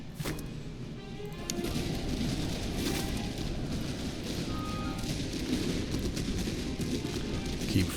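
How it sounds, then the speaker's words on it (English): Musket volleys and scattered gunfire crackle continuously across a battlefield in the strategy game Master of Command, a dense, moderately loud barrage. "Keep firing on them."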